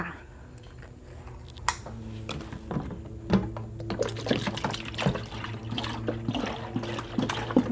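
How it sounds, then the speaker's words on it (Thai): Milk poured into a bucket to make a fresh-milk fruit-sweetening fertilizer, a steady liquid splashing and gurgling that builds and fills the space, close and fairly loud, with no talking. "ใส่นมลงไปในถังก่อน"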